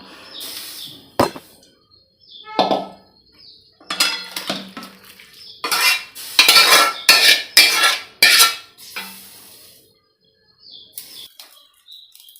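Cooked chicken curry being moved into another pot with utensils, giving a series of sharp metallic clinks and scrapes, some clustered and some spaced out, with quiet gaps between them.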